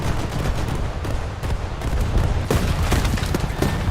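Anti-aircraft guns fire from a warship in the War Thunder naval game, a dense, continuous barrage of rapid booming shots that stays loud and steady throughout, with no speech over it.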